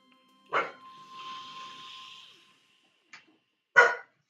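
Two dogs, a neighbor's dog and a household dog, bark back and forth in a few sharp, separate barks with short pauses between them and a soft, breathy sound in between, fairly close and otherwise quiet.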